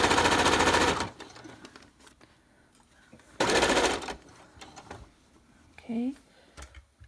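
A sewing machine stitches a ribbon skirt in two loud, steady bursts of about a second each, separated by quiet handling noises, with a brief voiced sound near the end.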